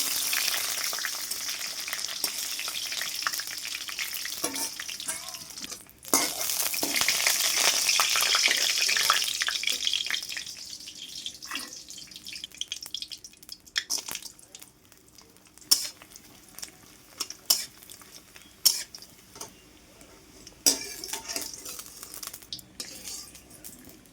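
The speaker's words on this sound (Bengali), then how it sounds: "গরম তেলে সেইভাবে একটু খুন্তিটা দিয়ে চেপে চেপে পাঁপড়গুলো ভেজে নেবে" Papads sizzle and crackle loudly in hot oil for the first several seconds, then the frying quiets to a softer hiss broken by sharp scraping clicks as a spatula presses them down.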